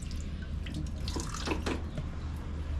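Water pours and splashes steadily, with scattered drips and gurgles over a low background hum.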